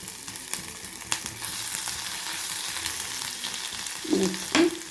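Ginger frying in a pan with mustard seeds for a ridge gourd fry: a steady sizzle with light stirring and spatula scrapes, plus a couple of short utensil knocks near the end.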